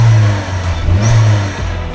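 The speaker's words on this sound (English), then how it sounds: "let's give it a quick rev, because obviously we've got the Ram air filter" A Vauxhall Corsa VXR engine fitted with a Ram air filter, revved briefly up close; a loud, steady engine note rises and holds for about two seconds with no talking.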